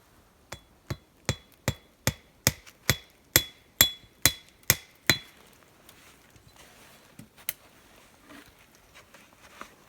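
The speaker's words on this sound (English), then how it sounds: "Then I just pound a nail in," A hammer drives a nail into a tree trunk while a marten trap box is set up in the woods: about a dozen sharp, evenly spaced close blows over five seconds, then a few quieter knocks and handling sounds.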